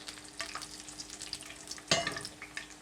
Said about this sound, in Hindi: यहाँ पे हमारा तड़का जो है